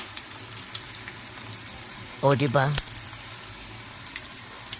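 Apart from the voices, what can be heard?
banana blossom frying in oil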